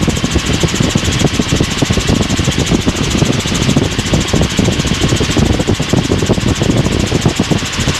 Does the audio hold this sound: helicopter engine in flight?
yes